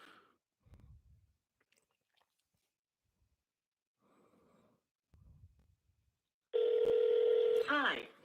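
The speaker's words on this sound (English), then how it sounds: "let's try to shoot John a call one more time" A phone dials out for a call-in show, giving a loud, steady stacked tone for about a second that ends in a warbling chirp, after scattered faint breaths and mouth noises.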